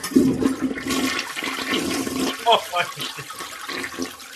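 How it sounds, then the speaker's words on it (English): A toilet flushes with a loud rushing, gurgling swirl of water lasting several seconds, used as a comic buzzer at an NFL season preview, with faint talk in the background. "I'm gonna flush their season down the toilet before it starts."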